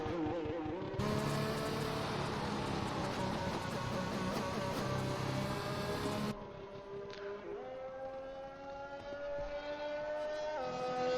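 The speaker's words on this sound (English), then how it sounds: "done a few donuts for us to finish off Abu Dhabi Grand Prix" A Formula 1 car in the F1 2021 video game spins donuts at the Abu Dhabi Grand Prix, its engine screaming loud and continuous with sweeping rises and falls in pitch, then easing to a lower, steadier drone near the end.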